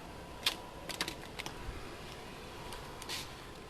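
Someone jotting notes by hand at a workbench during a Schumacher CAT 3000 RC car rebuild: a handful of soft, close scratches and taps from a pen, irregularly spaced over a quiet background with no talking.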